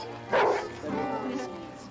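A dog gives a single short bark, followed by mixed voices talking.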